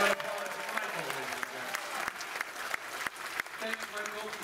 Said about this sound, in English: Michael, for a big round of applause